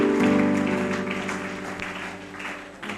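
A church congregation clapping in praise of God, a brief, moderately loud burst of applause that slowly fades.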